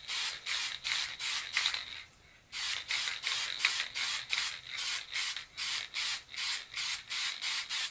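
Short bursts of spray paint hiss from an aerosol can as model blaster parts get a silver base coat, a regular rhythm of about a dozen quick close sprays separated by brief pauses.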